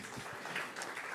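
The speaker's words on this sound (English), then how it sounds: "So you can clap for me." A demo-day audience claps softly at a business event, a faint, steady patter of many hands with a few louder claps standing out.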